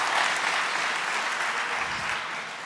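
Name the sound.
audience round of applause for Crofty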